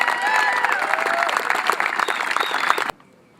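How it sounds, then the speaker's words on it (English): Audience applause at an awards event, dense clapping with some crowd voices, loud and steady for about three seconds before cutting off to near silence. "I'd like to have a major round of applause for Jeff Messner."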